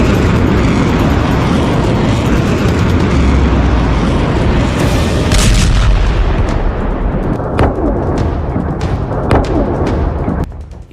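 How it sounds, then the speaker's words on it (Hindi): Loud, continuous roaring blasts and rumbling booms from explosions at an oil depot in Bahrain struck by Iranian attacks, with sharp cracks and bangs toward the end. "देखिए, बहरीन में ईरान ने तेल डिपो को कैसे धमाकों से आग का दरिया बना दिया।"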